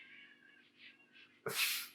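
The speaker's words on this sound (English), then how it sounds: "5 foxes and maybe possibly a cat are getting into a fight outside" Outdoor nighttime fight between foxes and a cat: faint, drawn-out yowls and wails, then a sudden loud, harsh screech that bursts in and holds to the end.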